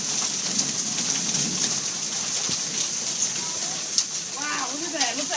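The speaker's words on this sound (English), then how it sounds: "Ew, fucking hailstorm." A hailstorm in Methuen, Massachusetts pelts cars and puddles with a steady, dense patter of ice, and a voice rises briefly near the end.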